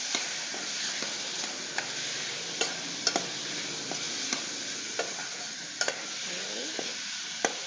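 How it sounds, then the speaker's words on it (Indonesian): Meat sautéing in a pan sizzles with a steady hiss, broken by sharp scraping stirs and clicks of the utensil against the pan at irregular moments, close and moderately loud. "Nah, tumis dulu sampai berubah warna ya."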